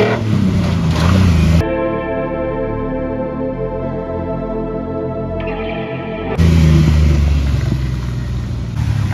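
A Ford Ranger truck's engine revs hard off-road in the desert, a loud sustained roar with a clear harmonic drone through the middle stretch, bracketed by broadband wind and rumble at the start and end.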